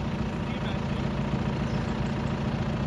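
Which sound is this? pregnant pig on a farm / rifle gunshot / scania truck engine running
scania truck engine running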